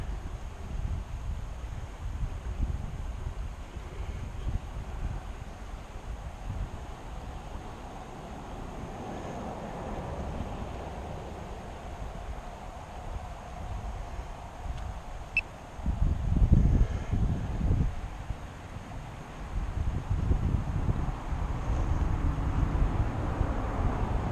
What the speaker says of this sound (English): Gotta fight the wind to get back.